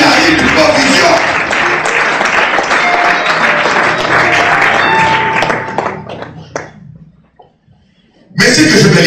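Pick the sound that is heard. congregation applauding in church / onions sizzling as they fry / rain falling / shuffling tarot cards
congregation applauding in church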